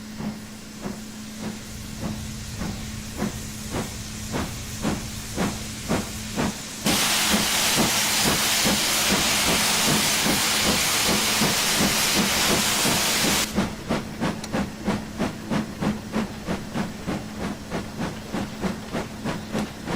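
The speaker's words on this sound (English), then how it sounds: "Oh, look, your wheel slipping there." A steam locomotive slips its wheels at a North Yorkshire Moors Railway gala event. Rapid, even exhaust chuffs give way to a loud, continuous rush of steam for several seconds before the quick beats return.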